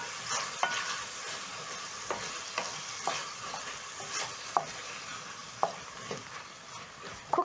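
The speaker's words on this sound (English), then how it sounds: "So to my pan, I'm going to add in some red onions and green onions, garlic and ginger" Red onions, green onions, garlic and ginger stir-frying in a pan for a beef liver stew, with a steady soft sizzle and several sharp spatula scrapes and taps spread through the clip, close and moderately quiet.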